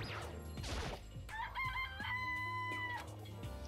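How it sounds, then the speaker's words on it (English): Game chickens cluck and a rooster crows: quick clucking bursts open the clip, then a long, drawn-out cock-a-doodle-doo rings out clearly in the middle, loud and close. "I'm gonna click on all the chickens"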